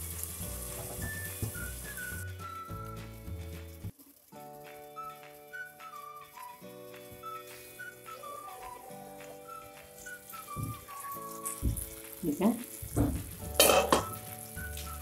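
Tomatoes for a spicy tomato chutney simmering and softening in a pan, giving a soft steady sizzle under whistled background music, with louder stirring and frying bursts toward the end.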